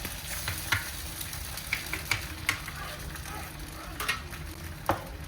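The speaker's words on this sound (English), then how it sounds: "So I decided to just quickly fry up these eggs." Eggs frying in a home kitchen pan, a steady soft sizzle with scattered crackles and light utensil clicks, close and fairly quiet.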